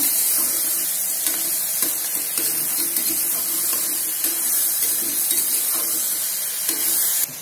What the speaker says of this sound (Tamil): கறியை கொஞ்சம் நல்லா வதக்குங்க